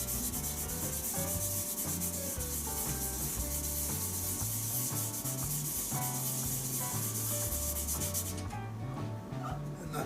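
A hybrid resin shaving brush on a woodturning lathe is sanded smooth, giving a continuous close rubbing hiss over a steady motor hum with a regular pulsing rhythm. The rubbing cuts out near the end.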